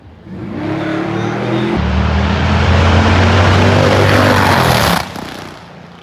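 A nitromethane-fuelled 197 cubic inch Harley-Davidson drag racing motor roars at an old-time drag strip, a loud sustained blast that surges harder midway, then cuts off abruptly and leaves a fading rumble.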